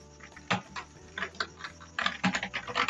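Close computer keyboard typing in quick uneven bursts of clicky keystrokes, a short pause and then a faster run, with no talking.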